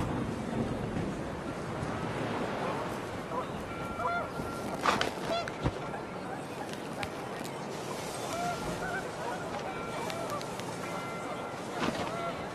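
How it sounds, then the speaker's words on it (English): Panicked geese honk in gusting wind within a video game, their calls rising briefly over a steady roar of wind that fills the whole scene. "The wind picked up, and panicked geese appeared and quickly went."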